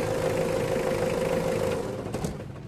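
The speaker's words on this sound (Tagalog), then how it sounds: "kumakalog talaga yung makina" A secondhand Mitsubishi Adventure engine with a rough, misfiring condition idles with a steady, loud knocking rattle, running continuously close by with a slight dip near the end.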